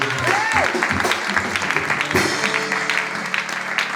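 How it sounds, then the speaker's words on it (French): Women in a church congregation cheer and clap together, a steady wash of applause mixed with raised voices and a rising whoop, sustained throughout at moderate loudness. "toutes les femmes s'acclament"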